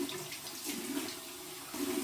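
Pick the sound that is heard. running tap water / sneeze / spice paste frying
running tap water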